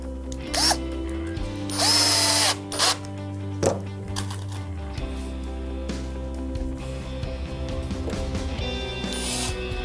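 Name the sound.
power drill driving screws into a pallet bench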